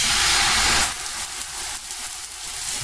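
Searing sizzle of a boned, rolled leg of lamb dropped into hot oil in a pan, a loud steady hiss that surges at first and then settles to a continuous frying crackle.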